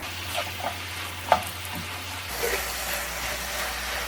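Vegetables sizzling over medium heat in a pan for Korean gangdoenjang, with occasional scraping and stirring clicks, a steady frying hiss throughout, close and fairly quiet.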